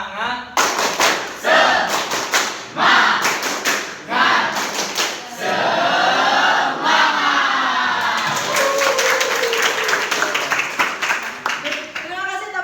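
A school class performs a rhythmic clapping chant, with sharp group claps in quick patterned bursts alternating with loud chanted voices, close and energetic throughout.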